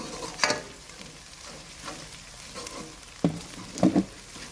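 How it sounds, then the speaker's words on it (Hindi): Ginger garlic paste frying in a pan with golden brown onions for a dhaba-style desi chicken curry, giving a soft steady sizzle with a few louder stirring bursts, no talking. "बस हम थोड़ा सा इसको फ्राई करेंगे अदरक लहसुन को"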